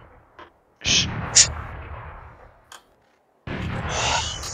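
Turret gunfire in the Valorant video game: two bursts of heavy, booming shots, each with sharp crackling transients and a rumbling low tail, separated by a short pause, close and loud.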